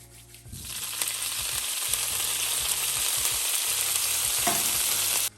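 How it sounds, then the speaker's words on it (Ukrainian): Bacon hits hot olive oil in a skillet, and a loud, steady hiss holds from the first second to the end, broken by short scraping knocks and clatter. No one speaks. "Можемо додавати бекон."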